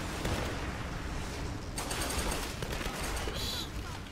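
Gunfire in Tomb Raider multiplayer rattles in quick repeated bursts, dense and fairly close, running throughout with a brief break in the middle.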